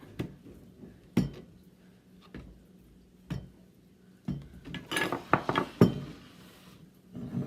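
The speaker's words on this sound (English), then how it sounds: "The thing you're going to do after you put the holes in the potatoes is put them on a pan." Whole pierced potatoes set down one by one onto a metal baking pan, giving a handful of separate clunks and clinks spaced across a quiet kitchen, with a louder cluster of knocks and scraping near the end.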